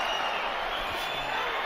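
Boxing arena crowd roaring in a steady, dense wash of noise after a left hook in the 2015 Canelo Alvarez vs. Miguel Cotto fight, loud and continuous with faint commentary mixed underneath.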